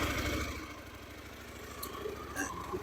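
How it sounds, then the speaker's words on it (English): A 2024 KTM Duke 990 motorcycle engine, just switched on, settles into a steady, rumbling idle close by, with a low, even pulsing throb that continues throughout. "I'm just going to switch the bike on for you"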